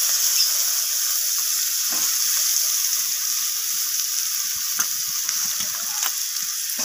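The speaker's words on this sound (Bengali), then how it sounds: "পেঁয়াজটাকে আমি ভেজে নেব" Chopped onions hit hot oil seasoned with tempering spices for a surmai fish curry, producing a steady, loud, close sizzle with a dense hiss and scattered small crackles and pops throughout.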